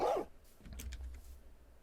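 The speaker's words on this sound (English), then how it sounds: "Nice bark." A dog gives one short, fairly loud bark at the very start, then only a faint low background hum remains.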